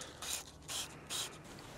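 Three quick hissing bursts of Koch Chemie spray sealant from a trigger bottle onto a towel, evenly spaced and close, each lasting about a quarter second over faint background noise.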